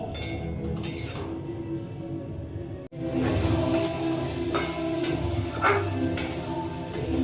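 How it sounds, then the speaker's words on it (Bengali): Chunks of elephant foot yam sautéed in a pan for a vegetarian curry, a soft steady sizzle with occasional utensil clinks and stirring scrapes, close by, after a brief quiet break. "এখন 5 থেকে 10 মিনিট আমি ভালো করে কষাবো"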